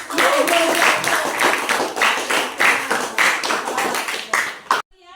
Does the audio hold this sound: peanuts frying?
no